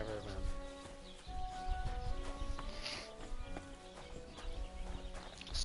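A horse in the video game Kingdom Come clops along in a steady rhythm of hooves, with a whinny in the mix and a busy background running underneath.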